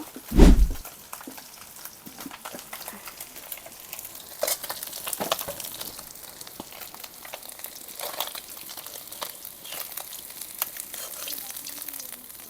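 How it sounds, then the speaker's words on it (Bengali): Small bele fish fry in hot oil in a kitchen, giving a continuous close sizzle with crackles, spatters and the scrape of stirring, opening with a sharp clank. "অল্প কয়েকটা মাছ ছিল, ভেজে নিলাম।"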